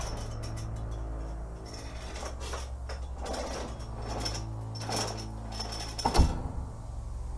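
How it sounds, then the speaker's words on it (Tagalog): An iron and brass padlock is worked open with faint metallic clicks and light rattling over a quiet hum, ending in one sharper, louder click. "Rinig na rinig ko yung lagitik ng bakal at tanso."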